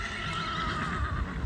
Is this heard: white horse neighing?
yes